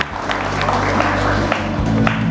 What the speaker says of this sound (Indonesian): Berikan tepuk tangan untuk Ustadz Dasat Latif